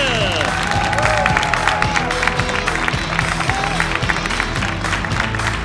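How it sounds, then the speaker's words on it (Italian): A stand-up comedy crowd applauds and cheers for comedian Mario Raz, loud sustained clapping with whoops, while a voice and a musical tone carry on underneath. "Un grande applauso per Mario Raz!"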